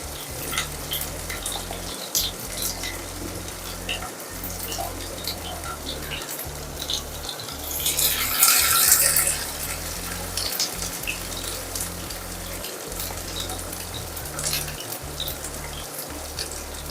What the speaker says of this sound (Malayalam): മീൻ ഇട്ട് കൊടുത്തിട്ടുണ്ട്. ഇത് നന്നായിട്ടൊന്ന് ഫ്രൈ ആവട്ടെ.